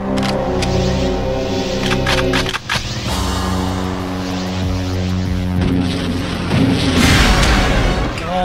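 A rocket launcher explosion rumbles through a Perfect Dark multiplayer match, one heavy boom among continuous loud game noise and layered tones, swelling again near the end, with no voices.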